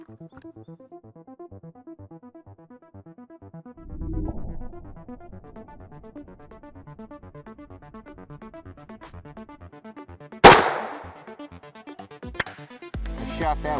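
A single sharp FN 5.7x28mm SS190 gunshot fired into a test block, loud and close, standing out against a quiet musical background, followed by a smaller click and a low thump.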